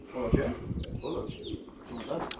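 Pigeons coo and flutter over pigeon lofts, a few soft close coos and chirps with brief wing sounds, mixed with nearby talking.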